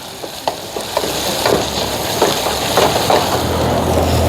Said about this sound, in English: We've got our onions browning.